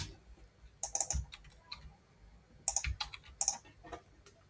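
Keys clatter on a computer keyboard in quiet, irregular bursts of close clicks and taps separated by short pauses, with no voices.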